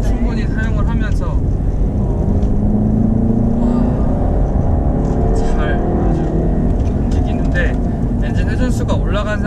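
A Jaguar E-Pace gasoline engine drones steadily and loudly under load climbing a hill, its pitch rising gradually, with a voice talking over it throughout.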